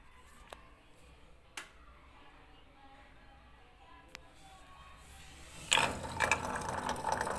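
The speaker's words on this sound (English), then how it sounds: "So the pump is running, you can hear the sound of the pump. But it's making a lot of noise." An old Samsung washing machine's drain pump runs noisily during a low 400 rpm spin, with a few sharp ticks over a low hum before a louder rattling, grinding churn starts near the end.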